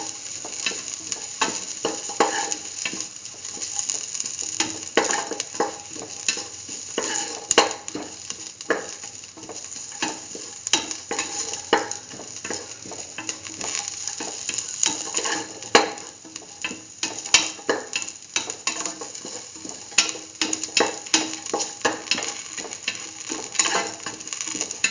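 Garlic, salt, chayote and peas sauté in a pan with a continuous sizzle, overlaid by frequent clattering scrapes and taps of a spatula stirring, close and busy for the whole stretch.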